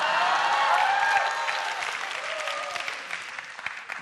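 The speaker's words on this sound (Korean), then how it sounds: "박수를 많이 치시니까요," Lecture-hall audience in Korea clapping loudly and steadily, a thick wash of applause that slowly fades toward the end, with a faint voice underneath.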